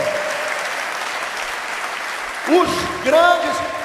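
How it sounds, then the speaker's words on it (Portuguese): A church congregation bursts into applause during a sermon, two short rounds of clapping in the last second and a half, following a stretch of a preacher speaking. "Você pode aplaudir o Senhor, querido?"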